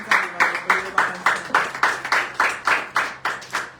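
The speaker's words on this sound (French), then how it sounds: "Acclamons." A church congregation clapping in unison, about a dozen sharp, evenly spaced claps in a steady rhythm, loud and close in a reverberant hall.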